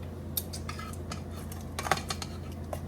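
Appetizers are stirred and coated in a bowl with tongs, light metallic clicks and scrapes sounding at irregular intervals against a low steady background hum.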